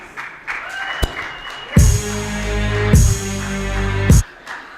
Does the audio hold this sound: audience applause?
yes